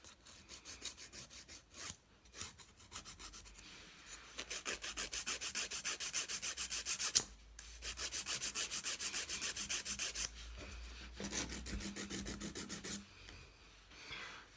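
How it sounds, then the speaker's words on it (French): A nail file rasps back and forth across an artificial nail tip, shaping it square-rounded in quick, steady strokes, close and distinct, in bursts separated by short pauses. "Après on va venir reprendre notre lime et donner donc la forme à notre ongle"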